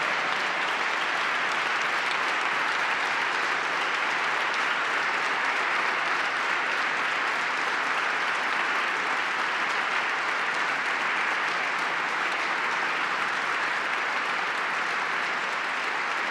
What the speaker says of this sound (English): Got a lot of bipartisan claps for that.